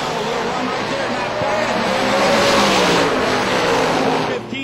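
A drag racing car makes a run down the strip, a dense, steady engine roar that swells and holds loud throughout before cutting off sharply at the very end.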